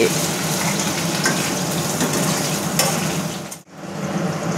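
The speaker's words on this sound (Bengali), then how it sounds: "এবারে আলুগুলোকে ভাজা হবে।" Potatoes fry in a pan for egg curry, a dense, loud, continuous sizzle with occasional scraping that drops out briefly near the end before resuming, no speech.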